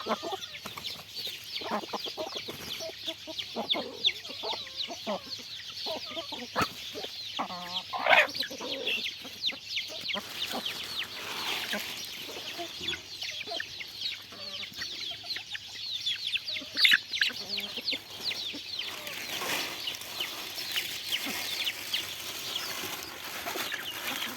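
Junglefowl cluck and call in scattered bursts outdoors, fairly close, with rustling and occasional wing flaps between the calls.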